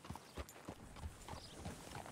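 Horse hooves clip-clop in a steady walking rhythm while riding in Red Dead Redemption 2, each hoof strike distinct and fairly close, with light ambient game sound behind.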